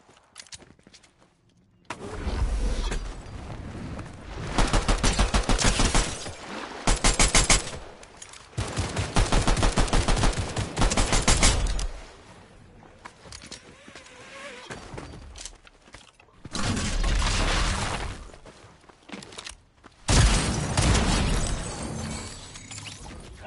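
Rapid automatic gunfire rattles in long bursts through a Fortnite-style shooter match, loud and close, broken by short pauses and mechanical reload clicks.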